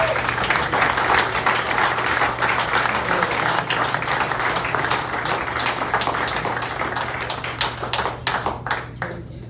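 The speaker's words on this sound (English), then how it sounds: "let's give these guys a big round of applause" An audience gives a big round of applause for the presented masters, loud and dense clapping that runs steadily and thins into scattered separate claps near the end.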